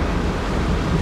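Flash flood water rushing down Big Thompson Canyon along Highway 43 near Estes Park, Colorado, a loud dense roar that holds steady and close without pause.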